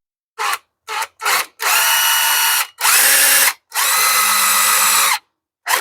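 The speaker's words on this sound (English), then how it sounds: "I'm gonna drill the inside first, make the first hole" A power drill whirs in several bursts while drilling holes to install latch clips on a fifth-generation Toyota 4Runner: three short blips, then three longer sustained runs of drilling, close and loud, with brief pauses between.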